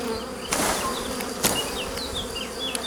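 Honeybees buzz thickly on a hive frame, a close, continuous drone with individual bees whining past and a few sharp knocks from handling the frame.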